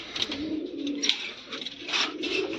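A red-marked pigeon, a tiri female kept among homing pigeons, coos in low repeated pulses, close and fairly clear with no talk.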